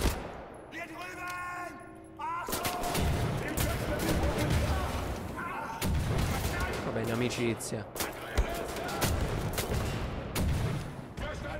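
Explosions and gunfire in the shooter Wolfenstein: The New Order, loud rattling automatic bursts and heavy blasts crowding one another almost without pause after a short quieter start, with someone talking briefly over the action.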